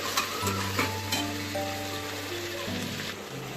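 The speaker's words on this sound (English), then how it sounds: "just give it a nice stir" Tomatoes fry in a pan for spinach palak rice and are given a stir, with a steady close sizzle, a few soft stirring scrapes and a sustained tonal hum running underneath.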